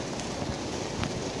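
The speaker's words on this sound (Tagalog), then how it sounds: "So umuulan ngayon guys" Rain falls in a steady, even hiss with faint scattered drops and no talking, a short, continuous stretch of wet outdoor noise.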